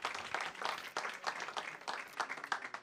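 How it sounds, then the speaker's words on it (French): Audience applause after a talk on circular urban planning, a moderately quiet patter of clapping in uneven waves. "Vous pouvez l'applaudir à nouveau."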